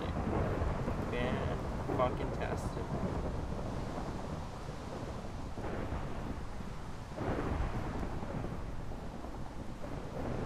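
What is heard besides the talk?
rain and thunder in the Minecraft server Minez, from a video game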